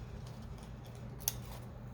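Scissors trimming a paper pharmacy bag pocket: a single quiet, crisp snip stands out against a faint, low room hum, with no talking.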